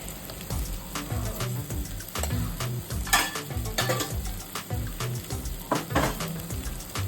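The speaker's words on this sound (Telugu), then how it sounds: "ఒక టేబుల్ స్పూన్ ఆఫ్ అల్లము అండ్ కొంచెం పసుపు కూడా వేసి కొంచెం అల్లం పచ్చివాసన పోయేంత వరకు ఫ్రై చేసుకోవాలి" A tablespoon of ginger and a little turmeric fry in a pan while being stirred, with steady sizzling and repeated scraping and clinking of a spoon against the pan, for a paneer pulao.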